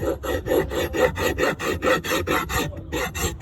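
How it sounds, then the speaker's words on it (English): A horse-shoeing rasp files a chamfer onto the brake pads of a Citroen C1, Toyota Aygo or Peugeot 107. Steady, close, rhythmic scraping strokes, about four a second, repeat throughout with no voices. "it's actually a rasp for shoeing horses"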